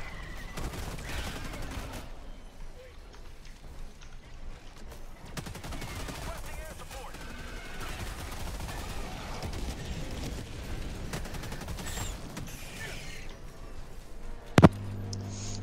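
Game gunfire from Helldivers, a dense and steady stream of distant shots and bursts running throughout at a moderate level, with a sharp louder crack near the end.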